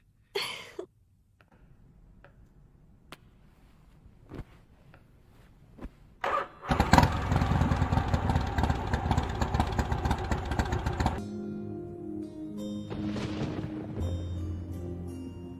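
A vehicle engine cranks and catches with a loud burst, then settles into a steady idle that drops slightly in level, after a few quiet clicks and door sounds.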